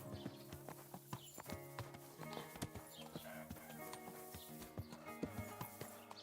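Horse hooves clip-clop in steady, repeated beats within the medieval game Kingdom Come: Deliverance 2, sounding close and moderately loud over a layer of game music and ambience.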